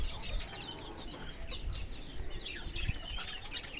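Fantail pigeons in a breeding loft, pairs with eggs and young, make a close, continuous murmur of soft cooing and fluttery calls with no voices over them.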